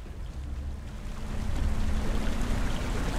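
A waterfall in the video game Hellblade rushes in a continuous wash of falling water with a low rumble underneath. It swells slightly louder partway through, with no voices.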